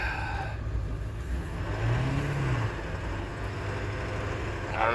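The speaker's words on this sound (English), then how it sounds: "It revved up and then went in." A 1999 7.3 Powerstroke truck engine with a slipping transmission, steady and fairly loud, rising briefly into a revving swell before settling as the gear engages.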